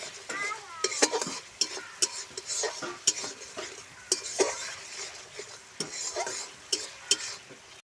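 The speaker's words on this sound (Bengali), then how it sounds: "সামান্য দিয়ে ভালো করে মশলাটা কষিয়ে নেব" Spice paste for a silver carp curry fries in oil while a spoon stirs it, a soft continuous sizzle punctuated by frequent clinks and scrapes against the pan, nearby, with no talking.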